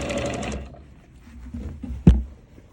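A sewing machine stitches in the ditch on a quilt, a close steady mechanical whirr that fades and slows, ending in one sharp loud knock as the needle stops in the fabric.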